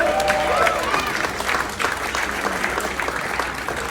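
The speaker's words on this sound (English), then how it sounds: "How about a round of applause?" Clapping from an audience at a New York charity auction and paddle raise comes through at steady strength for the whole stretch, and a few faint cheers are mixed into it.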